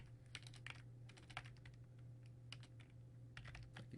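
Typing on a computer keyboard while entering notes into a notepad during statistics software work; quick irregular bursts of key taps over a steady low hum, close and moderately quiet.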